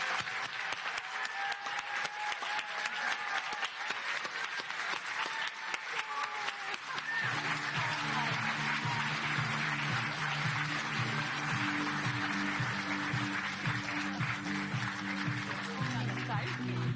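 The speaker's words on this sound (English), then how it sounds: "let's give them a round of applause" An audience applauds the Mariachi Reinas at a California induction ceremony, with voices mixed into the clapping, and then mariachi instruments begin playing partway through and carry on to the end.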